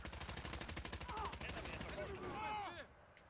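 Rapid automatic gunfire from a Call of Duty Modern Warfare multiplayer match, a fast even stream of shots for nearly three seconds before it stops, with game voices mixed in.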